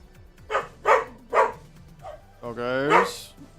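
Dogs in the video game Farming Simulator 25 give several sharp barks in an irregular rhythm, followed by a longer whining yelp, with a voice talking under them.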